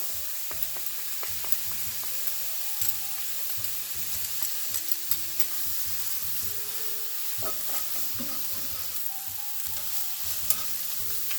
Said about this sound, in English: Now my minced garlic.